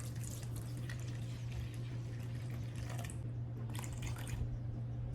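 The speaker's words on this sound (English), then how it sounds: "now I'll add the water" Water poured into sourdough starter in a hot humid kitchen, a close trickling splash in uneven bursts over a steady low electrical hum, with no talk.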